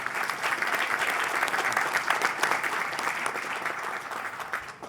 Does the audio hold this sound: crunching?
no